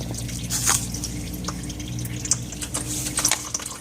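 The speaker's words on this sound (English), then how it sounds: "So that first drain on the opposite side there really took most of the oil out." Oil drains from a Kubota Grand L 3560 tractor during a 400-hour service as slow, irregular drips patter close by, with a faint liquid trickle underneath.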